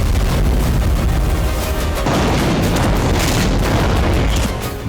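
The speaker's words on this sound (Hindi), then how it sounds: "पोक्रोवस्क में रूस की होवित्जर ब्रिगेड ने फ्रंट लाइन पर जबरदस्त हमले किए।" A Russian howitzer brigade fires on the front line near Pokrovsk, Ukraine, in loud, dense, continuous booming and rumbling blasts that overlap without pause.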